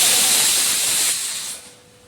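Garlic hits hot oil in a pan with a loud, close, steady sizzle that fades over about two seconds.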